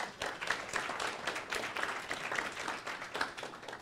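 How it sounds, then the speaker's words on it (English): Quiet, light clapping from a small audience at a conference, a soft patter of scattered hands that continues evenly for several seconds without any talking. "Golf clap."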